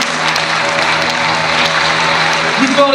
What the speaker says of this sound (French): Applaudissez-la quand même.